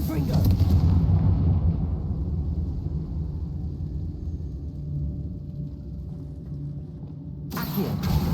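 A Confringo fire spell in Hogwarts Legacy lets out a heavy rumbling blast that rolls on for several seconds and fades, followed by another burst near the end, all loud and low-pitched.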